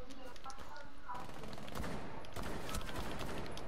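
Short bursts of automatic gunfire in Rainbow Six Siege gameplay, fairly quiet and mixed with game noise, while players talk excitedly over the shots.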